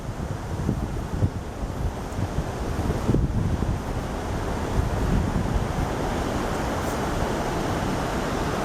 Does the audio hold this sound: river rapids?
yes